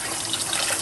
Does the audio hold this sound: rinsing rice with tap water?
yes